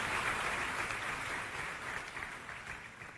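A church congregation applauds the praise and worship team, steady sustained clapping from a crowd at a Sunday service, filling the room evenly and fading slightly at the end.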